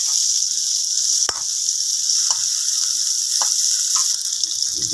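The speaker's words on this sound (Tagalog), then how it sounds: "Ibisan nyo muna yung bawang at yung sili para bumango" Garlic and chili sautéing in a pan give a steady bright hiss of frying oil, with a few sharp clicks and taps from utensils.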